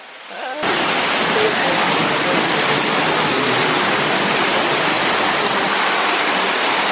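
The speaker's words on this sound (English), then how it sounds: "There's a little waterfall right there." Loud, steady rush of a waterfall that starts abruptly after a brief quieter moment and continues as constant broadband roaring water.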